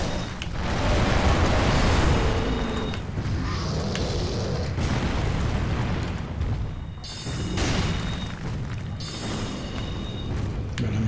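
Combat in the video game Dark Souls III, deep booming blasts and heavy impacts rolling through the whole stretch, loud and dense, with a few sharper bursts and metallic clanks standing out.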